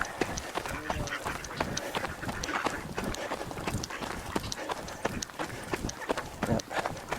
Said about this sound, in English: Ah, the ducks are here.